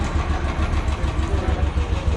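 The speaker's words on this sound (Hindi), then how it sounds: "हमने बाइक को स्टार्ट कर लिया है" Royal Enfield Bullet Trials 350 motorcycle from 2019, its single-cylinder engine just started and idling with a steady, low, close-up thump that stays even throughout.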